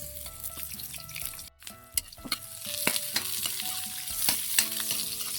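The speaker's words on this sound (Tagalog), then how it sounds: "manggigisa na tayo. Lagay tayo ng bawang, luya, sibuyas" Garlic, ginger and onion sizzling and being stirred in a hot pan, with steady frying crackle broken by sharp clinks of a spatula against the pan, close and moderately loud.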